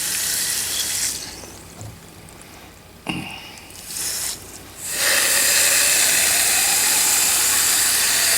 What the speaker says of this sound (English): now we're going to put water